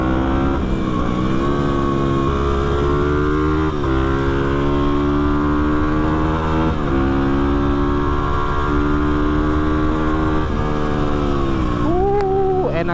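A motorcycle speeds along a winding road: a loud, continuous engine drone with rising and falling pitch as it shifts and accelerates, sustained throughout, with no talking.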